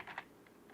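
Host name typed on a computer keyboard, a few quick faint key clicks close to the mic within a brief moment, alone.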